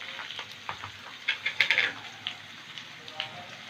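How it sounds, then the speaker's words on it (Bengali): Squash pieces fry in a hot pan, a soft continuous sizzle broken by sharper crackling pops and stirring scrapes, fairly quiet and close with no voices. "কোয়াশটা খানিকক্ষণ ধরে খুব ভালো করে ভেজে নেব"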